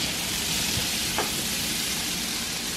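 Asparagus sautés in a pan, giving a steady broadband sizzle throughout, with a couple of faint knocks as the spears are tossed around.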